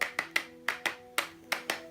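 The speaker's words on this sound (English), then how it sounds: "The piece consists of two people clapping at a steady rhythm, but one of them begins to slightly alter the rhythm of her clapping" Sharp, dry hand claps in a steady rhythm, about eight distinct claps spaced evenly, close and fairly quiet, performing Steve Reich's Clapping Music for two people clapping.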